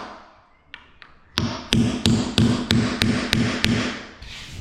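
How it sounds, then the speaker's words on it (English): A nail punch taps nails into wooden skirting: two light taps, then about nine firm, evenly spaced metallic hammer strikes close by. "your punch will knock them in."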